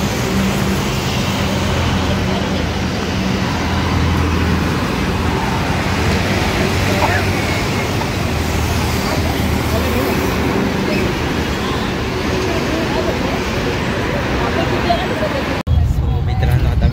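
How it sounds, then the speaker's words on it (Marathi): Roadside traffic at a bus stop in Nashik makes a loud, continuous roar of passing vehicles, with indistinct crowd voices mixed in and a sudden shift in the noise near the end. "आता आम्ही पोहोचलो आहे बस स्टॉपवर, पण आमची काय बस अजून काय आली नाही."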